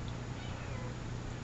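A pet cat meows faintly near a shower curtain, the brief call partly buried under steady broadband room noise.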